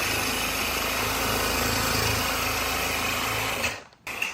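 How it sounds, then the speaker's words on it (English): A food processor whirs continuously and loudly while pulsing shallots with liquid for a salad dressing, a dense motor buzz that cuts off abruptly near the end before a brief restart. "Want a little liquid in here when you're pulsing the shallots, or else they won't mix evenly."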